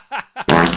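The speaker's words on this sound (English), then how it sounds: "That's an Excalibur fart." A fart sound effect played on a wrestling watch-along stream: two short sputtering bursts followed by a longer, louder buzzing blast, close and dry.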